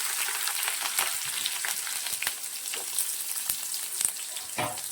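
Curry leaves and half-chopped onion frying in a pan on a gas stove, a steady bright sizzle throughout with scattered sharp crackles and pops, close and fairly loud, with no talking.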